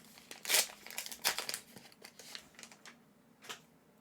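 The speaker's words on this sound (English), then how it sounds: "Let's open this pack and see if any of the missing cards are there." A McDonald's Pokemon card pack wrapper is torn and crinkled open, with several sharp close crackles of plastic foil followed by softer rustling, quiet and with no talking.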